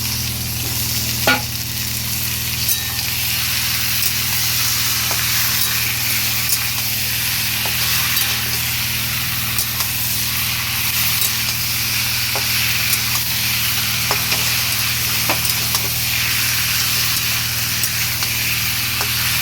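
Marinated country chicken frying in oil for a kosha curry, a loud continuous sizzle held close and steady for a long stretch, with occasional sharp spatters and light stirring clicks over a low hum.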